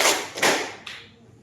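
A class of students claps in unison on command, two loud sharp group claps close together, then a fainter third clap trailing off in a quiet room.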